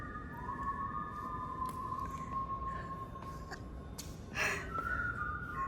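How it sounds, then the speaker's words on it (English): A person whistles inside the Missouri State Capitol in Jefferson City, producing sustained tones and a few rising notes that ring in the reverberant hall over a soft background hum, with no talking. "somebody's whistling"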